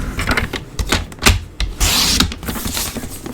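Designer paper being cut corner to corner for cards, with close, soft irregular scraping and rustling strokes of blade and paper over a few seconds and no talking.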